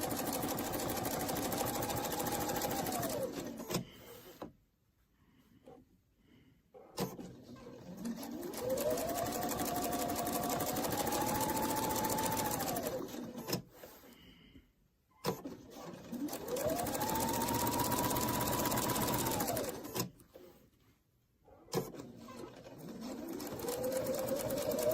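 A sewing machine stitches a quarter-inch seam in long runs, its motor whirring up in pitch and holding a steady hum, stopping for short silent pauses between passes, close and alone.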